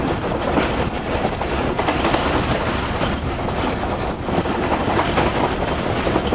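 An overnight Tezgam passenger train runs in economy class between Karachi and Khanpur, its wheels sounding a loud, steady clickety-clack over a continuous rumble of rolling carriages, heard from inside with no voices.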